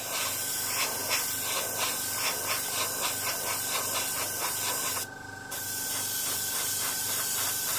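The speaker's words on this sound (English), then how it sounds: "The airbrush allows me to get uniform coverage exactly where I want it." Continuous airy hiss of an airbrush spraying, close and steady, with faint rhythmic pulses and a brief louder burst of air near the end.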